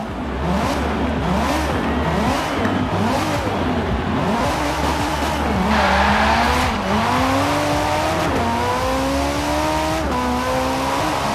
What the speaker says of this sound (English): It may not have the best engine note in the game, but it's fast.